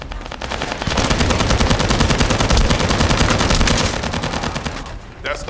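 Sustained automatic gunfire in the shooter game The First Descendant, a loud, rapid stream of shots with heavy low thumps lasting several seconds, then tapering off.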